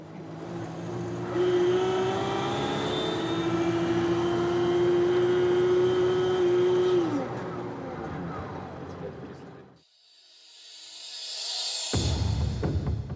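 A vintage state car's engine runs with its compressor engaged via the pedal, rising into a loud sustained whine, then fading before a brief burst of hiss returns, with voices over it.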